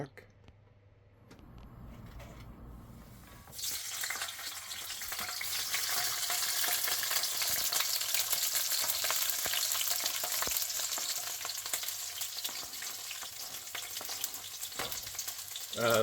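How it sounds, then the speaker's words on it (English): Food hits olive oil in a hot wok for a stir fry with a P.F. Chang's-style sauce, a steady loud sizzle building within seconds and continuing close throughout, with faint movement underneath. "A little bit of olive oil in the wok."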